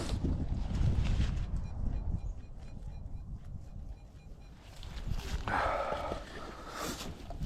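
Cold, gusty wind blows outdoors on a winter field during metal detecting, a steady broadband rush with microphone buffeting that swells again near the end; no talk.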